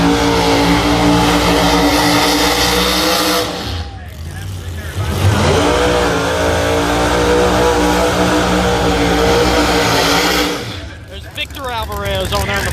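Pro Mod drag race cars roar loudly down the track at a World Series of Pro Mod event, a sustained heavy engine blast that briefly dips then surges again, with a commentator talking over it.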